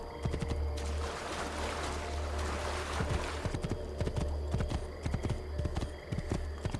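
Horse hooves clip-clopping in Assassin's Creed II, a steady rhythm of close, distinct hoof strikes that runs the whole time over a low rumbling game ambience near a flooded area.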